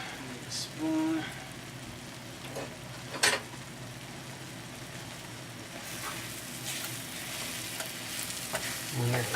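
A wooden spoon stirs sauteed mushrooms in a Teflon pan, with steady frying sizzle underneath and a few distinct scrapes and knocks against the pan, heard close.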